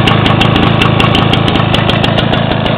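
A Duraforce lawn mower engine, previously prone to surging, runs steadily at idle with a fast, even putter like a dirt bike, loud and close with no rise or fall in speed.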